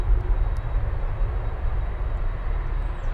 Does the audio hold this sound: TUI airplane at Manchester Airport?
yes